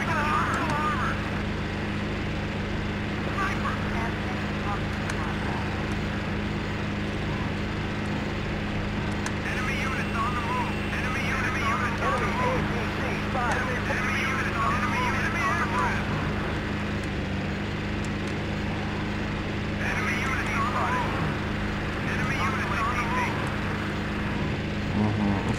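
Helicopter rotor drone in the Battlefield 2 video game, a steady mid-level whirring hum running throughout with other vehicle and battle noise, while players talk over it.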